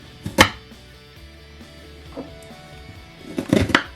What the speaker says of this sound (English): I'm not sure how small to chop them up